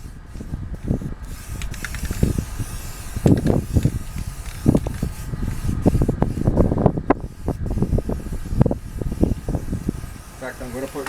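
A spray can hisses in short repeated bursts while light coats of primer go onto a Honda motorcycle fuel tank. Someone talks over the spraying throughout.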